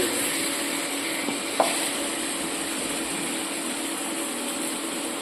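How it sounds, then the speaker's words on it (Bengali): Mutton sizzles in oil as it is stirred in a pan for a Bengali mutton korma, giving a steady hiss of frying with a couple of soft scraping clicks from the spoon. "ভালোভাবে মাংসটা নাড়াচাড়া করার পরে যখন দেখবেন এটা তেল ছাড়া ছাড়া হয়ে এসেছে"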